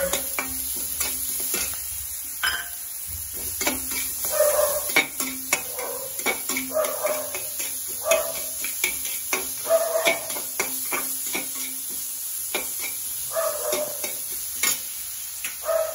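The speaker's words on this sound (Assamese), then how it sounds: "কঁঠালৰ গুটিখিনি দিছোঁ আৰু অলপ ভাজি" Jackfruit seeds frying in a pan with a soft sizzle, punctuated by frequent scraping and clinking of a spoon stirring against metal, close and steady.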